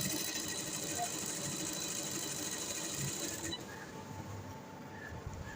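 A sewing machine stitches boot piping along a slit neckline, a steady close whirring hum that eases slightly partway through, with faint background noise.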